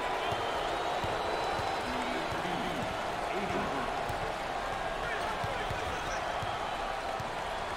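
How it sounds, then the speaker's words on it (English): An NCAA March Madness Elite Eight basketball crowd at a Kentucky versus Duke game keeps up a steady roar and applause throughout, with a ball bouncing faintly on the court and a commentator talking over the noise. "Has got the fans roaring and applauding"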